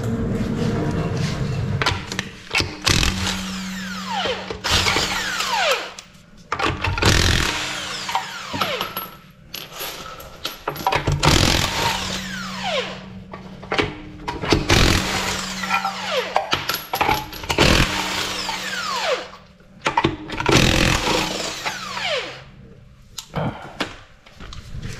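An impact wrench spinning off wheel lug nuts during a home tire rotation, firing loud, close, rattling bursts again and again with short pauses between them.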